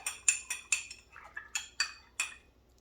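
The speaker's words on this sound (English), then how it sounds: "And I stir it up." A spoon stirring bitters into a warm non-alcoholic drink, making about eight quick, bright metallic clinks against a glass or mug in an uneven rhythm, close and clear, with no talk.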